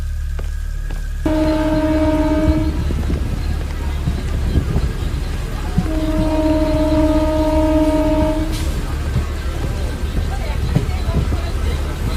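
A train at a deserted railway station at night gives two long horn blasts over a steady low rumble of moving rail cars, with wind noise and voices talking alongside.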